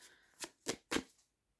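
Tarot cards being shuffled by hand, three quick crisp riffling bursts spaced evenly, close and fairly quiet, with no talking.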